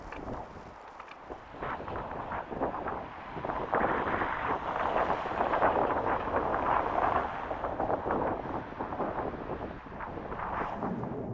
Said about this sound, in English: It's very cold and very windy.